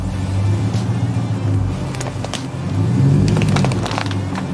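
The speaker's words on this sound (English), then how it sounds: "I'm borrowing John's truck real quick" A pickup truck rolls over a Quest 2 Elite Strap, its engine rumbling up close with a low, steady drone that swells around the middle, while sharp cracks and crunches of the strap breaking sound under the wheels.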